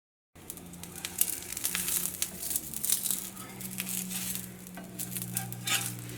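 Wheat dosa batter sizzling on an oiled griddle as it is spread, with steady close crackling, scraping, and a low hum throughout, no talking.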